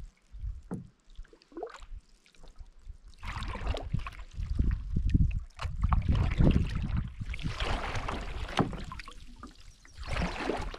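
Canoe paddles dip and pull through the water of a lake in Woodland Caribou Provincial Park, with soft splashes and strokes under nearby conversation.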